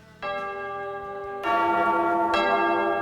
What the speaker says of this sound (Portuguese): Toca o sino, sacristão!